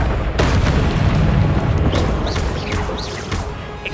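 Loud, sustained booming blast of a Confringo spell in Hogwarts Legacy, a rumbling explosion that fills the whole stretch with debris-like crackle and a few whooshing tails.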